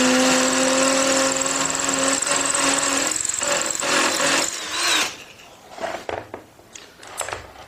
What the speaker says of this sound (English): the big drill is more jumping in the wall and probably makes bigger hole